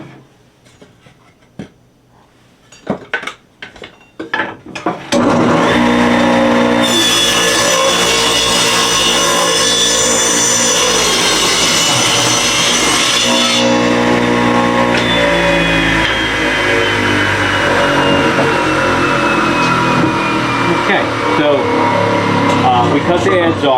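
A power saw rips the edge off a 2x4 for a wooden Christmas star, starting after a few knocks with a loud steady whine and roar that holds for the rest of the cut, pitch sliding slowly down near the end.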